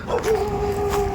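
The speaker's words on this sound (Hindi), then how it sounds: "देखो कैसे कुत्ते भौंक रहे हैं साले" Dogs in a park at night giving a drawn-out howling yelp, a single wavering cry lasting about a second, fairly close and clear.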